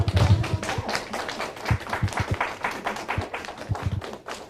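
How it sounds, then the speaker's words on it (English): Elementary schoolchildren in a classroom clap for a teacher, a small, uneven group of hands with scattered individual claps and thumps, close and fairly loud, thinning out toward the end. "Can we give her a round of applause, you guys?"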